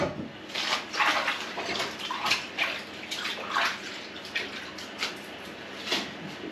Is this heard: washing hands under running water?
yes